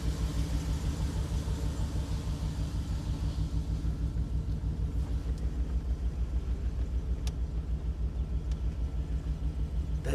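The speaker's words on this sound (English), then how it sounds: "That engine is nice and quiet. It will stumble once in a while, but it picks it right up." A BMW 325i engine idles nearby with a low, rhythmic throb, quiet and steady and pulsing evenly at idle, with a few faint clicks in the background and no talking.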